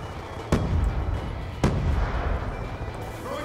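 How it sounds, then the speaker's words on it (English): A grenade going off in Black Ops 2 multiplayer, two sharp close blasts about a second apart, each followed by a low rumbling tail over busy battle noise. "Throwing grenade!"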